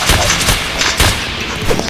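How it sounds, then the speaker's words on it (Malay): Loud, dense gunfire erupts in a World War video game, a rapid barrage of overlapping shots and booms filling the whole moment, close and harsh. "ada berendetan tembakan guys"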